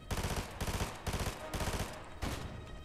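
Rapid bursts of automatic gunfire in several loud, evenly spaced volleys, with no talking.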